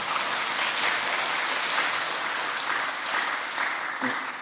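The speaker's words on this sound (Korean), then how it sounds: "한번 박수 한번 보내주시죠." Listeners at a lecture applaud an association president who spoke on unification preparation, a sustained, moderately loud patter of many hands clapping with a few sharper claps near the end.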